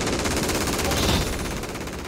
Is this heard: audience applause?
no